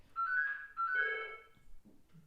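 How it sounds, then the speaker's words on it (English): A phone ringtone plays two bright melodic bursts in quick succession, fairly close and clear, then trails off into quiet room sound with no talking. "That's a phone."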